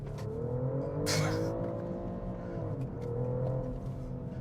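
A 2025 BMW X5 xDrive50e plug-in hybrid downshifts via paddle shifters into second gear and accelerates, its engine note rising as a steady, moderately loud drone from inside the cabin, with a brief whooshing burst early on.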